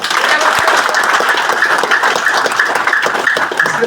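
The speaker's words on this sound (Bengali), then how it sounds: "এটা করতালি হবে ওনাকে।" An audience at a restaurant session in Khilgaon applauds a welcomed guest, with dense, loud, steady clapping from many hands filling the whole stretch.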